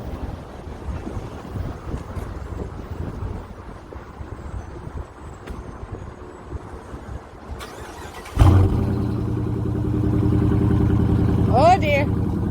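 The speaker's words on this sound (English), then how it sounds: "Listen to the exhaust." After quiet wind-buffeted rumbling, a Dodge Charger's 5.7 Hemi V8 fires up with a sudden roar and settles into a deep, throbbing exhaust idle, loud and close to the microphone.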